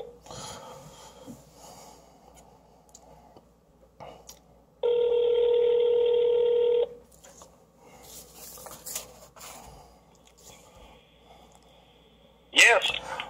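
A telephone sounds a steady tone for about two seconds while a long-distance call is placed, set among breathing, rustling and other handling noises, with a sharp burst near the end.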